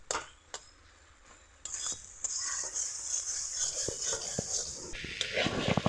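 Boiled potatoes being mashed in a pan while cooking down a singara filling, with scraping and tapping of a utensil against metal, building from sparse knocks to a steadier, busier scraping toward the end; a voice talks over it.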